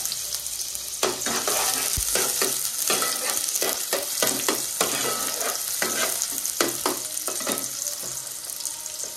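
Onion frying in hot oil for a Konkan-style fish dish, a strong crackling sizzle with frequent spatula scrapes and knocks in an uneven rhythm, close and steady throughout.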